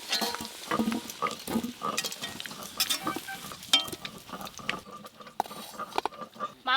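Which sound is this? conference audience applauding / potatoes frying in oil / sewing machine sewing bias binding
potatoes frying in oil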